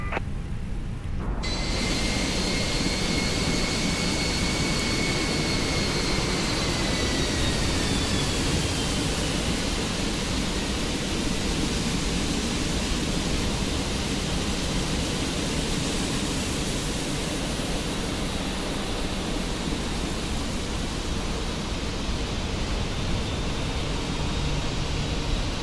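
Jet engine of an Airbus A320 spooling up during engine start, a steady broadband roar rising at the outset with a thin whine sliding in pitch, holding loud and continuous throughout without talk.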